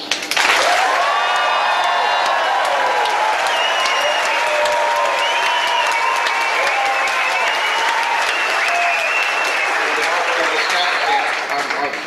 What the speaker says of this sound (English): I'm sure the audience here would like to give you a huge round of applause.